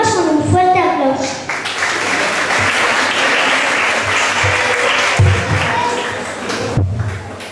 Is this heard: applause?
yes